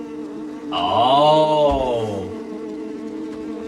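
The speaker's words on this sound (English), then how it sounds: "it's bees" Bees buzz in the PS2 EyeToy video game as a single droning swarm that swells up, wavers in pitch for about a second and a half, then fades, with a brief exclamation from a voice.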